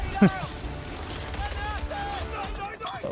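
MG44 machine gun fire in the Company of Heroes 3 video game, short bursts of rattling gunfire and distant battle sounds under someone talking throughout.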